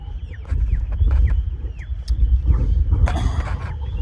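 Young chicks in a shelter give repeated high, falling peeps, a steady string of short chirps over low rumbling and shuffling noise, with a brief busier flurry of sound near the end.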